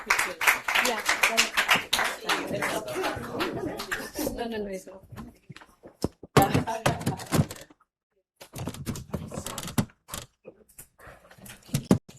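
An audience at the Tony Elumelu Foundation International Women's Day event gives a round of applause: a dense burst of clapping for about four seconds, then scattered, thinning claps with a brief silent gap before a few more.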